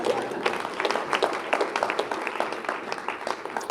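An audience at a Chatham County small business event applauds, a moderate spread of many hands clapping at a steady clip for a few seconds, with a faint voice underneath.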